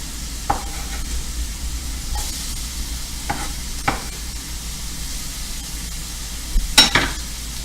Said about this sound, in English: I'm going to throw the broccoli in the middle of the pan